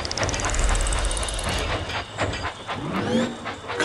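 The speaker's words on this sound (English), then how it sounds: "Clear the tracks. Engine coming." A train engine runs in the Thomas & Friends Minis video game, giving a steady rumbling hiss with clattering rail texture and a rising whistle-like tone at the start, continuous and fairly loud with no talk.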